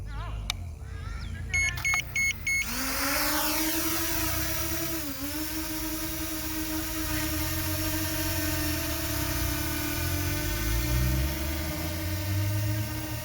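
JJRC X9 Heron drone taking off and flying, with a steady, loud motor whine that rises and bends in pitch as it climbs, following electronic beeps at the start; no one speaks over it.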